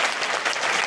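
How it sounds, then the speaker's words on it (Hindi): Applause breaks out for a child's answer on a radio program, a steady wash of many hands clapping that fills the moment briefly and evenly, with no voices over it. "अदिति के लिए तालियां बजनी चाहिए भाई"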